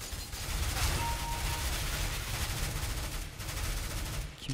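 Sustained gunfire in the video game CS:GO rattles continuously and loudly throughout, with dense overlapping shots and no clear gaps.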